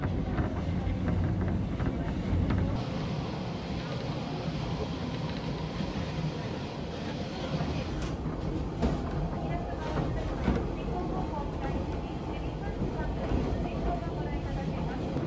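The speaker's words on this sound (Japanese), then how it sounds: "この列車自体揺れが激しいのですが、私が座っている席は特に揺れが激しいんです。" Ibusuki no Tamatebako train running and shaking heavily, a constant rumbling rattle of the carriage with wind-like rushing noise, heard from a seat inside, continuous throughout.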